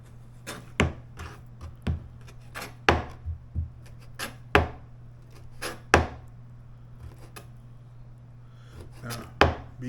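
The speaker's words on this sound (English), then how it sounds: "Do not ever take your eyes off the knife while you're cutting." A kitchen knife chops pork on a cutting board for a stir fry. Around a dozen close, sharp thwacks land in an uneven rhythm, some in quick pairs, over a low steady hum.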